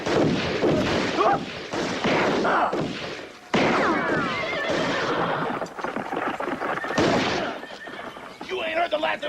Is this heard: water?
no